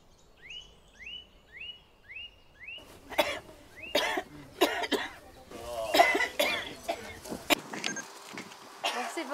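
A woman coughs repeatedly during the filming of a scene for a French film, several sharp bursts in close succession, with voices talking around them and a bird chirping in the background.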